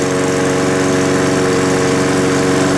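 A Challenge Xtreme lawn mower engine runs flat out at full throttle, a loud, steady, buzzing drone with a fast, even pulse, close by and continuous with no voices.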